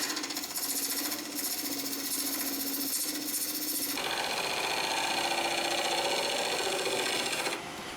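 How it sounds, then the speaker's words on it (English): Carbide-tipped negative rake tools rough-shaping an epoxy resin and pine cone hybrid vase on a wood lathe, a steady dense scraping whir that grows harsher and louder midway, continuous throughout. "Started rough shaping with my negative rake carbide bits. It works extremely well on epoxy resin."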